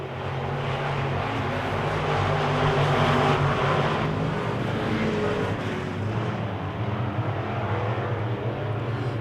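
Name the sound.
Wissota Midwest Modified race cars racing on track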